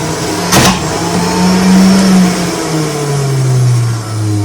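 A juicer motor runs loud and close, a steady droning whine that rises and sags in pitch like a lawn mower engine, with a brief clatter near the start.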